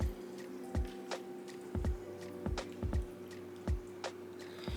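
Fertilizer water is poured into a semi-hydro houseplant pot, producing a series of about five soft, close splashes and drips at a steady rhythm over a low constant hum, with no talking.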